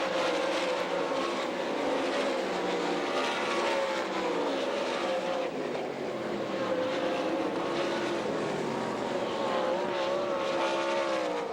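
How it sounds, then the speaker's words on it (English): World of Outlaws sprint cars roar around the track during a heat race at the Knoxville Nationals, their engines a dense, continuous snarl with pitch rising and falling as the pack passes, heard from a distance. "Into turns 3 and 4 for the final time. Hot foot Jason Myers will win heat race number 4."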